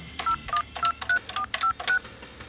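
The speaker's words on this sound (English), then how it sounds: "I gotta make a quick phone call." Telephone touch-tone dialing: seven crisp beeps in a quick, even sequence, clear and alone.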